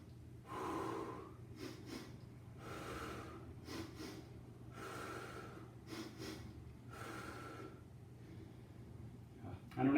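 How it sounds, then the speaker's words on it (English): A runner's breathing technique of a double inhale followed by one exhale, heard as repeated sharp sniffing gasps and breathy exhales in a steady rhythm, close and fairly quiet. "It's a breathing technique. If you feel you're out of breath, it's a double inhale and then an exhale."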